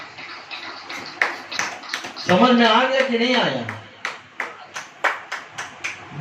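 A church congregation claps in scattered, sharp bursts during a sermon, the hand claps irregular and fairly close, with someone speaking between and over them.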